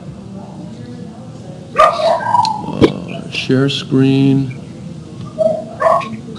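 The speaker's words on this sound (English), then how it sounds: "Somebody's dog." A dog barks a few times in the background of a video call, short yips and woofs scattered among people talking close by.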